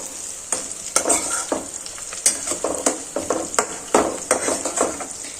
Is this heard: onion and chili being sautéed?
yes